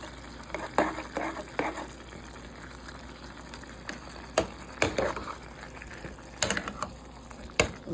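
Biryani rice fried in a pot with sour yogurt for chicken biryani, stirred with steady scraping and clinking strokes over a low sizzle, the spoon hits coming in irregular bursts.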